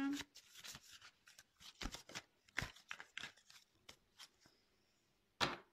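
Tarot cards shuffled by hand in short riffling bursts, quiet and close, with irregular pauses between each burst.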